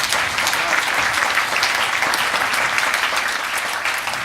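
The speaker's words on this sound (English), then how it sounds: "I want to join in the universal thanks and applause for Craig Kennedy" An audience at a policy forum applauds Craig Kennedy with dense, steady clapping that fills the whole stretch at an even level, with no voices standing out.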